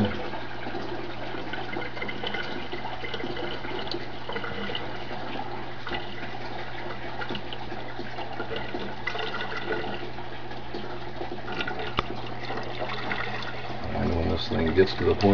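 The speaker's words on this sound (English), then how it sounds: "the water is rapidly dropping" Water rushes and gurgles steadily as an aquaponics siphon drains it in a living room, a continuous wash of flow with a low hum underneath that grows louder at the end.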